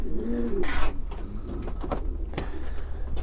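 Pedigree racing or roller pigeons coo in a loft during breeding season, soft low throaty calls repeating near and clear, with a few scuffling and clicking sounds around them and no speech.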